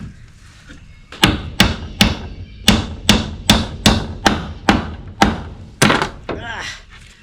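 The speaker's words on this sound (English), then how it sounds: "and hammer at the same time." Hammer blows on pallet wood while the porch of a cabin is being built: about a dozen sharp, loud strikes in a fairly steady rhythm, close by, with a brief pause near the end.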